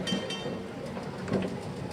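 A Brisbane tram, recreating the city's last tram run, rolls along its rails with a continuous low rumble and rattling wheel noise, steady and fairly close.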